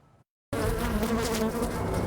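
Beekeeper's bees buzzing loudly and steadily after a brief silence, a dense close swarm hum with no talking.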